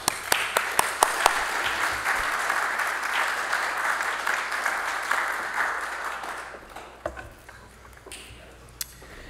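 Applause from a symposium audience welcoming a speaker, a broad sustained wash of many clapping hands with a few sharp near claps at the start, fading out after about six seconds into quiet room noise.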